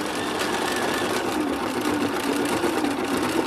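A Bernina 790 Pro sewing machine runs steadily, its even mechanical whir and rapid stitching hum continuing without a break throughout.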